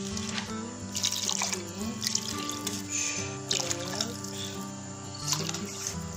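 Water running from a tap into a pot for a golden lentil soup, a steady close splashing and trickling pour with a few brighter drips, heard alone.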